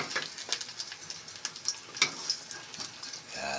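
A sunny side up egg fries in a non-stick pan with only a little oil, giving a soft, steady sizzle dotted with small crackles and pops, fairly quiet and close.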